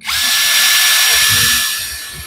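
A new cordless electric drill, fresh from the box with hammer mode and auto-lock chuck, whirs up right after its battery is fitted, running steadily and loud for about two seconds before easing off slightly, with no talking.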